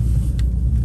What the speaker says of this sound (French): je vais dépasser le camion poubelle